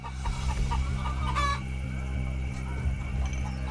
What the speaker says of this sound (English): I hear chicken noises.